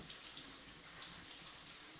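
Steady broadband rush of shower water running continuously, soft and even with no talking.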